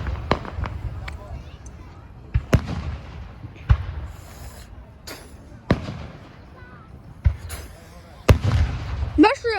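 Fireworks display in Lapeer, with repeated sharp booms and crackling bursts from aerial shells, including a mushroom-shaped firework, spread across the clip amid crowd noise and some voices.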